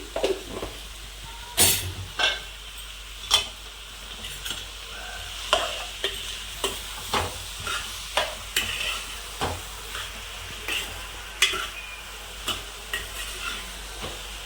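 Gentle frying sizzle on a low flame with repeated scraping strokes of a spatula stirring capsicum and tomato curry in a pan, steady and close, no voices.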